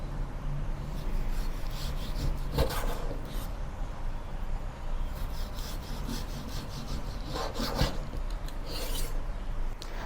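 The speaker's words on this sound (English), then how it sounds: "Cut the pork loin into thick slices." A knife slicing a pork loin into thick slices, with rough scraping and rasping strokes in a few separate bursts over a low steady background hum, close by and with no voices.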